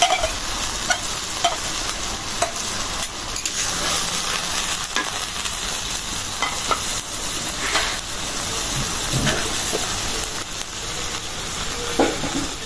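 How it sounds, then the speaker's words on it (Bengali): Dried fish being dry-roasted in a dry wok with green chillies, a steady crackling sizzle with scraping stirs throughout, no voices. "শুটকি মাছগুলি শুকনা কড়াইতে ভাইজা দিয়ে নিচ্ছি"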